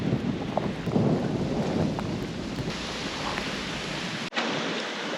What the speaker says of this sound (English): Tropical Storm Nicole turned into Hurricane Nicole